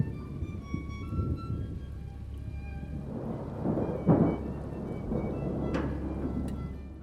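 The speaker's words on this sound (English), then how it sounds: "relying on ambient sounds such as thunder and rain to create suspense" Steady rain pours in a dramatic film scene while low thunder rumbles throughout, swelling into a louder crack near the middle and another roll later, with no voices or music.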